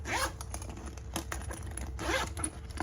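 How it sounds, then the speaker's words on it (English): Zippers on the two front pockets of a handmade tote bag are pulled open and shut, giving two quick rasping zips separated by softer scratchy handling, close and fairly quiet. "So we have the two front zippers here."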